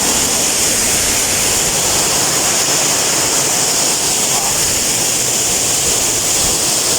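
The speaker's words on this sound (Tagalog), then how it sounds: "Isa ni sa mga hidden falls diri sa barangay Gitsin Mani, sakop sa Bayugan City" Gethsemane Falls, a hidden waterfall in Bayugan City, roars as a loud, steady, unbroken rush of falling water that fills the whole scene without letup.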